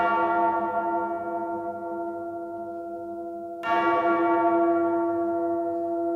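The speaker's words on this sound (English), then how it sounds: "this sound is actually Lars hitting an anvil with a metal hammer" A metal hammer strikes an anvil twice, loud metallic hits each leaving a long, bell-like shimmering tone that slowly decays, the second hit about halfway through.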